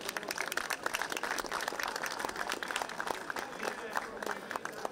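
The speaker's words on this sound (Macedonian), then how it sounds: "Да го поздравиме со уште еден аплауз здравичарот" An audience at a Badnik Christmas Eve celebration at Skopje's cathedral church claps in a brisk, uneven patter, with voices talking over the applause the whole time.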